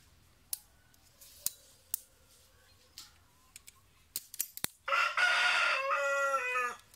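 A rooster crows near and loud in one long, drawn-out call at the end, after a stretch of scattered light clicks and taps.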